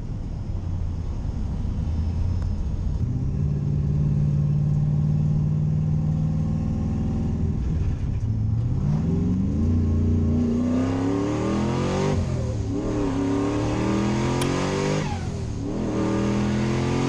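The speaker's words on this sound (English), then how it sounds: "First gear feels good. Second gear feels good." A car engine revs up close and loud through first, second and third gear, its pitch climbing in steady sweeps that break off briefly at each shift.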